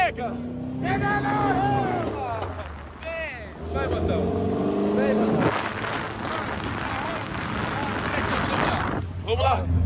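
A convertible Volkswagen Beetle engine rumbles steadily on a test drive, with a low continuous drone and some rising revs. People talk over it throughout.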